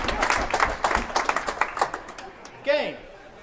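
Spectators at a real tennis Australian Open semi-final clap in a burst of scattered, crisp applause that thins out toward the end, with a brief voice near the close.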